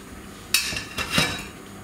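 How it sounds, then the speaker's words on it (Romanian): Nettle soup being stirred in a pot, with a few scraping and clinking knocks of a spoon against the metal, close and fairly quiet with pauses between strokes. "Amestecăm bine."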